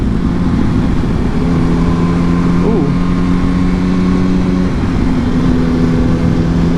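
A Yamaha R1 motorcycle being ridden, its engine droning steadily and loud with a brief rise in pitch midway, under constant wind rush.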